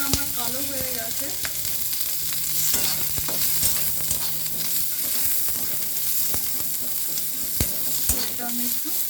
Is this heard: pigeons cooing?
no